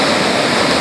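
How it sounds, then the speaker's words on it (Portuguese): Cachoeira do Prata waterfall pours in a steady, close, full rushing roar of falling water, with no voices and no breaks. "E eis aqui mais uma parte da Cachoeira do Prata"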